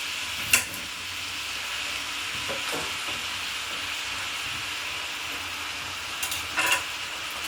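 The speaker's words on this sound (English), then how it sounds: "Give those a good stir." Bite-sized potato chunks are stirred in a frying pan, with a soft continuous sizzle and hiss and a couple of brief scraping clatters from the spoon near the start and end.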